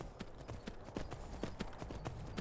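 Horse hooves clip-clopping in the video game Skyrim, a quick, steady run of sharp hoofbeats at moderate volume over a low background rumble.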